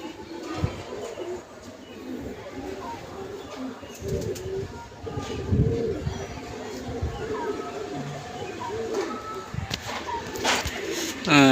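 Several pigeons coo continuously at close range, their low burbling calls overlapping through the whole stretch, punctuated by occasional bumps, flutters and clatter, with a few sharper sounds near the end.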